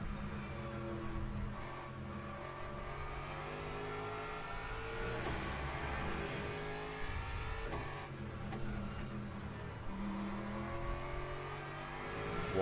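Race cars, a Porsche among them, roar in a racing video game with sustained, layered engine drones rising and falling as the pack runs close together, steady and continuous, with no voices.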